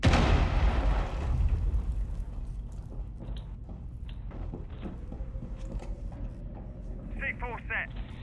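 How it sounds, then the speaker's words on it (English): A frag grenade going off in the Rainbow Six Siege video game: one heavy, booming blast right at the start that rolls off into a rumbling tail, with game noises and a voice talking afterward. "Throwing a frag grenade!"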